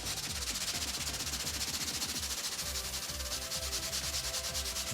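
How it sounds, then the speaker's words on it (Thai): A thick-bristled brush scrubbing an oil stain with multi-purpose cleaner, a steady rhythmic back-and-forth rasp that is close and continuous with no pauses. "นี่ลองใช้แปรงขัดได้เลย เป็นแปลงที่มีขนหนาๆหน่อยนะครับ"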